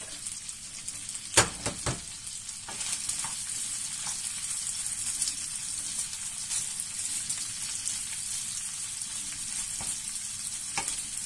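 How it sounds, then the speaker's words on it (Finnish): Chopped onion sizzles in a pan of butter and bacon, a steady bright frying hiss with a few sharp clinks and stirring scrapes, close and without talk. "Sitten mulla on tässä silputtu sipuli, niin se, se menee seuraavaksi pannulle sitten."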